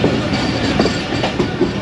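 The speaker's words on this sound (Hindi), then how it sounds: "एक बहुत ही ज़बरदस्त कर्व लेते हुए ट्रेन" The 39UP Jaffar Express, travelling on a single line from Lahore, rumbles loudly and steadily as it takes a sharp curve, with a continuous close rolling roar and faint wheel clatter, heard alone.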